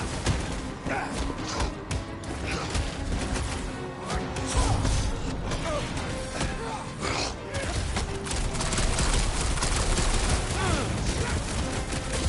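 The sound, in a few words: Rocket blasting enemies with gunfire in video game Guardians of the Galaxy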